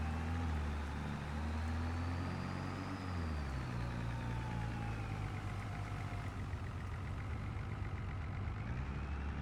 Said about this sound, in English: our tractor's not too happy about coming up this hill